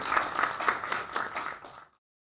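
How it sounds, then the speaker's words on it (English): Applause at the Amiwest 2021 gathering, a short round of clapping from a modest audience that rises, holds steady for under two seconds and then stops abruptly. "So a big round of applause for Brian."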